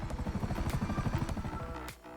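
A Buzzard attack helicopter in GTA Online flies overhead with a loud, fast rotor chop and engine whine, close and steady until it cuts off near the end.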